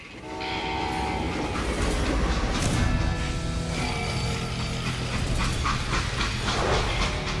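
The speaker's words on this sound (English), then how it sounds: "this time we're actually on a train that's moving" A moving train in a Western-themed video game, a loud, continuous rumble of rolling freight cars with rhythmic clatter and a sustained horn-like tone near the start, close and steady throughout.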